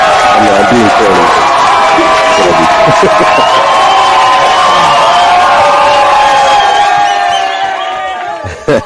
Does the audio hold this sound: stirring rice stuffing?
no